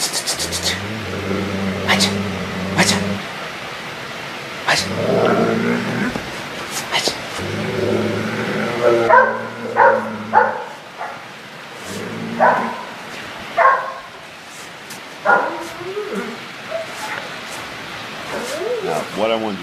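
A stressed dog trapped against a door barks and yips in sharp bursts, mixed with low growls and whimpers, while a person talks over it with repeated calls.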